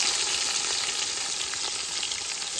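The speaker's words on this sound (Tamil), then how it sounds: "இப்போ வெங்காயம் வதங்கிடுது" Onions and green chilies sizzle steadily in hot oil with whole spices for chicken biryani, a dense continuous frying hiss up close with no talk.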